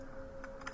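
Quick keystrokes on a computer keyboard ending in a firmer press of the enter key, close and fairly soft in a quiet room.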